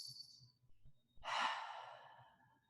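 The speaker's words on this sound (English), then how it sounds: "take a little bit of ujjayi breathing. It kind of sounds like Darth Vader." Ujjayi breath during a power vinyasa yoga practice, made by constricting the throat: one long, loud, hissing Darth Vader-like exhale that fades out, after a softer breath and quiet room noise.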